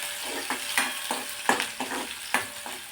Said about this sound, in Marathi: आता हे परतून घ्यायचं तेलामध्ये।